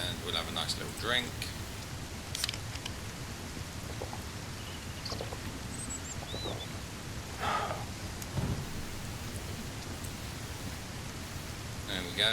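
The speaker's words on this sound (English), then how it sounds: "I guess we just gotta wait for this rain to bugger off" Rain falls steadily in the survival video game Mist Survival, a continuous hissing wash with occasional rumbling swells, while scattered brief game sounds flicker over it.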